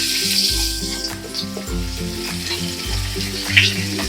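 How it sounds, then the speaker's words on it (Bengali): Thinly sliced onion sizzles in hot oil with five-spice tempering, a steady bright hiss, while low thumping sounds come and go underneath. "পেঁয়াজটা আমি এখন ভেজে নেব"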